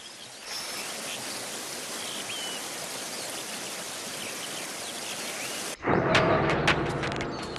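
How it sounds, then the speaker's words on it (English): Salmon rapids on Alaska's McNeil River make a dense, steady rush of whitewater close by, then cut abruptly to nearer splashing and sharp droplet sounds near the end. "At rapids like these, on Alaska's McNeil River, a wily group waits for the salmon to arrive."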